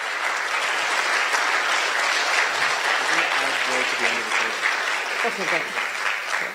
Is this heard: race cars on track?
no